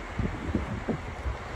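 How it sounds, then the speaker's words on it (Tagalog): Strong wind buffets the microphone at the Oryukdo Skywalk in Busan, South Korea, a loud, continuous roar with rhythmic low gusts thumping over it and no voices. "Sobrang hangin lang ngayon."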